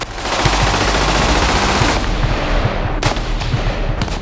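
Sustained machine-gun fire and rapid gunshots in a military documentary about an Indian Army strike on a camp near the Myanmar border, a loud dense rattle of bursts that continues for several seconds without talk.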